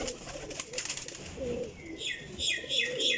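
Teddy golden pigeons coo in low, rolling murmurs, soft and nearby, with a few brighter chirp-like calls near the end and faint rustling in the background.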